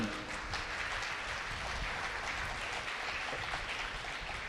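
Steady applause from a lecture audience, a dense, even patter of many hands clapping continuously throughout with no speech over it.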